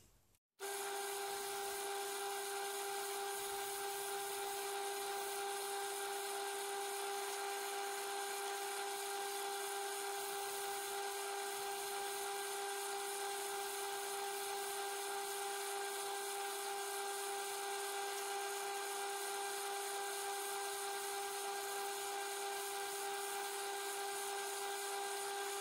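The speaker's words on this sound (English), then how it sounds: "I'll start sanding the resin now" Steady, unbroken whine of a rotary sanding tool working a resin cast of Wile E. Coyote at fine grit, holding an even high-pitched tone for the whole stretch with no pauses or voices.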